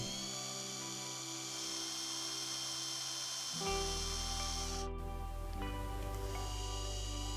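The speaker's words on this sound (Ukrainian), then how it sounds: "Свердлимо отвори для вісів." A small electric drill whines steadily at high pitch, its tone shifting as it bites into metal coins, running continuously without pause.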